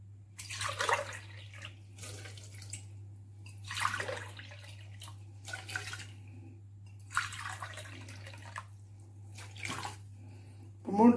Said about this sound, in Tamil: ஒரு 3 டம்ளர் தண்ணி ஊற்றணும்.